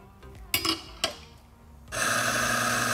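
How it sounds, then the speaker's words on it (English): Mahlkonig E65s/E80s coffee grinder starting up and grinding steadily, a loud continuous whir that sets in after a few brief clunks and handling noises and holds to the end. "now, we should be able to grind with some amount of vibration without the delay that we would have had on the high resolution"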